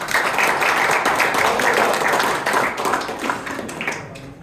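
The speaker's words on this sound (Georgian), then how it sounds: "აპლოდისმენტები გქონდ." An audience at a professional boxing show in Tbilisi gives steady, fairly loud applause that thins out toward the end.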